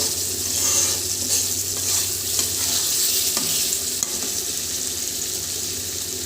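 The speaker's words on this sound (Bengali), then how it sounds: "আমি এটাকে নাড়িয়ে চাড়িয়ে নেমে নেব" Egg curry being stirred in a frying pan, a loud continuous sizzle close by with light scraping and clinks of a spatula now and then.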